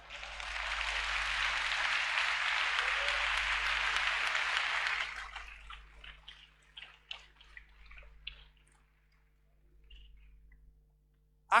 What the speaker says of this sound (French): acclamons le Seigneur quand même